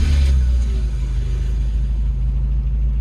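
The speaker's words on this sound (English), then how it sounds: "you can turn your car on" A car engine idles with a steady low rumble just after starting, close and constant.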